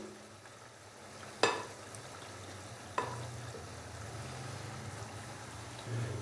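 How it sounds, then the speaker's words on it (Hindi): Marinated chicken frying in tomato paste in a pan, a steady low sizzle with two sharp clattering stirs from the utensil and a rising hiss near the end, no talking. "चिकन डालने के बाद अभी मैं इसको अच्छे से मिक्स करूंगा।"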